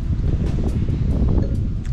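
Wind blows steadily and loudly outdoors, a continuous low rumbling buffet with no pauses, like gusts hitting a microphone.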